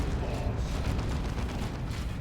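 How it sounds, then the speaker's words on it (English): Manticore artillery strike in Dawn of War 2: Retribution during a 3v3 match, a rumbling barrage of explosions and booms rolling continuously, loud and dense, with a game commentator talking over it. "Manticore Strike on mid"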